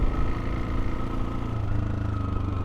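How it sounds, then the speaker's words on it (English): A Suzuki DRZ400 motorcycle engine chugs uphill in one gear, a steady low thumping drone close by with a fast, even pulse, loud and continuous with no voices. "so I'm not going to change gear or anything, you just chug up it"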